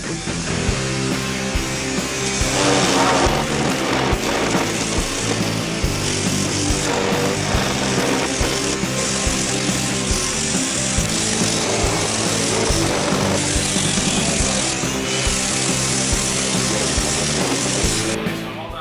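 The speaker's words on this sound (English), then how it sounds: "go ahead and sand all this, get rid of all the glue that maybe seeped up through here" Power sander working over a wooden picture frame to strip seeped glue, a steady close whirring drone with grinding texture that runs almost continuously, loud and unbroken, with no talking.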